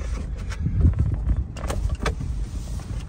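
Manual soft convertible top of a 2016 Mazda MX-5 Miata being lowered and latched by hand from inside the car: close rustling, fabric and frame movement, then a few sharp clicks and clunks as it locks.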